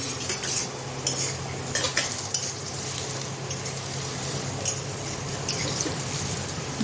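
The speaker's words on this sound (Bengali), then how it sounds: "ভালোভাবে মিলিয়ে নেবো।" Spices, including Kashmiri chili powder, are stirred into a pot of aloo biryani, with repeated metal scraping and clinking against the pot over a steady frying sizzle, close and continuous.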